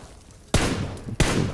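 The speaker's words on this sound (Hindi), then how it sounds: "ये यहाँ से गोली गोली चला रहे" Two sharp gunshots in the BGMI video game, spaced about half a second apart, loud and close over a low ambient game background, with no talking.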